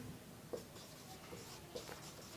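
A marker or chalk scratches across a board during a lesson on a cubic resistance circuit, with two brief strokes standing out, faint and close, against a quiet room and no speech.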